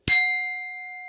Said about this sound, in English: That's me ringing my singing bowl